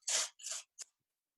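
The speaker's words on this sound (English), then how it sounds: "Does that paper tearing feel comfortable?" Paper torn by hand for collage making: three quick rips, the first two longer and the last a short snap, close and fairly quiet with no talk.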